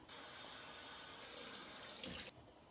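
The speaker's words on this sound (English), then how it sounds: "I'm gonna go ahead and wash my hands." Tap water runs steadily into a kitchen sink while hands are washed after mixing ground beef stuffing, a continuous close hiss that cuts off near the end.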